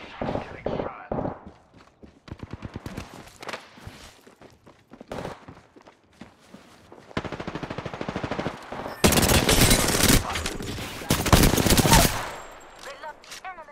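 Video game gunfire: bursts of automatic fire and single shots, some near and loud, others in rapid rattling strings, with voices talking between the volleys.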